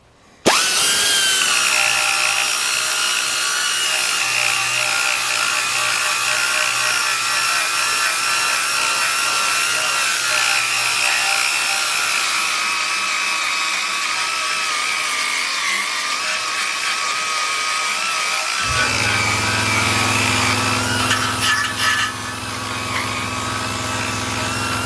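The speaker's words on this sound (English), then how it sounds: "All stripped down and conditioned with the conditioning wheel, the stripping wheel I should say" A power tool spins a stripping wheel against the metal of a Mercedes W109/108 subframe, producing a steady, loud abrasive whir that shifts to a lower, rougher grinding tone near the end.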